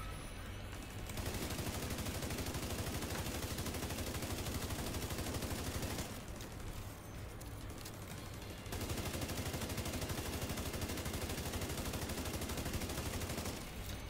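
Sustained, dense automatic fire from a large machine gun turret in The Division 2, loud and continuous with a brief lull midway before the stream resumes.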